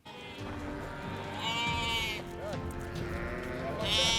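Sheep on a mountain pasture bleat several times, moderately near, mixed with a flock's background noise while a voice talks over them.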